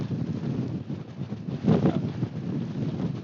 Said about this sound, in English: Really struggling with the wind at the moment